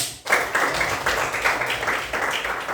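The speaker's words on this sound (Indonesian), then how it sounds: "Tepuk tangan buat Natalia." A classroom of students claps for a classmate, a dense patter of hand claps starting abruptly after a brief pause and holding steady at close range.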